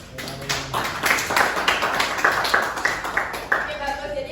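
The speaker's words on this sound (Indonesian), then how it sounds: "Oke, tepuk tangan untuk Elko." Classmates clap for a student in a school classroom guidance session, a scattered, uneven patter of hands sustained through the clip at moderate level with faint voices underneath.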